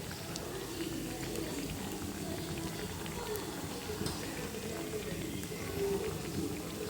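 Sabudana and potato vadas deep-fry in hot oil over a medium flame, giving a steady, soft, even bubbling sizzle that runs the whole time without letup.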